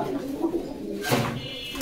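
Pigeons coo at a Bangladeshi pigeon market, a soft repeated cooing close by over a steady murmur of background voices.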